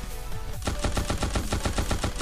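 Rapid automatic fire from the Cyclops gun in the mobile shooter Guns of Boom, a fast steady stream of loud close shots beginning after a short quiet lead-in and running without pause.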